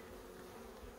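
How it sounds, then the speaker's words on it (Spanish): Honey bees swarm densely around a hive that is full of bees, giving a steady, close, humming buzz with no talk over it. "una alza porque hay demasiadas abejas"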